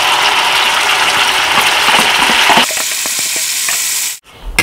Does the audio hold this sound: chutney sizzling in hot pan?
yes